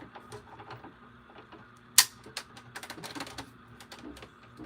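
A die-cutting machine presses cutting plates through card, giving a sharp loud snap followed by a rapid run of clicks and ticks, fairly close in a quiet room.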